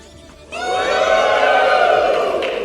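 A convention crowd at SacBronyExpo bursts into loud cheering and high-pitched wooing after a short quiet moment, a dense, sustained roar of many voices that holds to the end.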